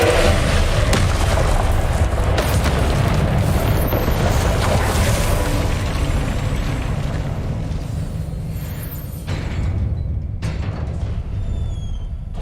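Confringo spell explosions cast in the video game Hogwarts Legacy, heard as a loud, continuous roaring rumble of booming blasts that rarely lets up before thinning slightly toward the end.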